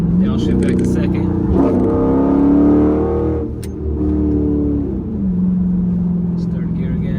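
A Dodge Charger engine revs loud and close as the driver shifts gears. It climbs in pitch, drops at each shift and settles into a steady drone, with a voice speaking over it.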